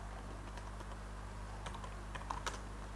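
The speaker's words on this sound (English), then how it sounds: "I will also type not" Keys on a computer keyboard are pressed in a short, sparse run of light clicks. The clicks are faint against a steady hum, with no talking.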